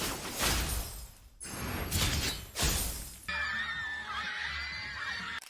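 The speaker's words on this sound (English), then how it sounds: "The sound effects of her ice constructs being detonated give me the life I need" Three bursts of crunchy, shattering impacts as Sanhua's ice constructs detonate in Wuthering Waves, in quick succession, followed by a sustained glittering, wavering electronic shimmer.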